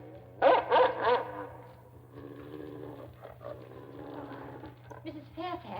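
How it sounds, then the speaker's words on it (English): Dog barking in a 1938 Orson Welles Mercury Theatre radio drama of Jane Eyre: a loud burst of three or four barks at the start, then quieter growls and whines under a steady low hum. "Mrs. Fairfax, what dog is that?"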